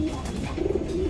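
A white round-type racing pigeon at a market coos softly in a short, low, throaty burst, heard close against a murmur of background noise.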